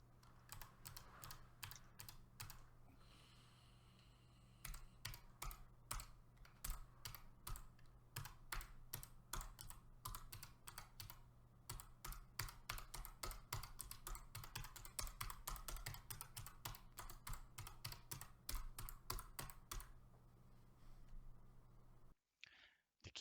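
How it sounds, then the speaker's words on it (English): Typing on a Logitech G915 keyboard with GL linear switches, a steady close stream of crisp key clicks and thocks in bursts, continuing for over twenty seconds before stopping abruptly. "I have recorded for you myself typing on this keyboard, which I will play for you now"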